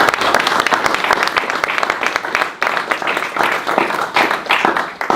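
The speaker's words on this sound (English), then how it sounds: "Let's give a round of applause for that." Members at a KW Bonsai Society meeting clap in a round of applause for a bonsai potter, close, crisp hand claps with a brief dip midway before the clapping picks up again.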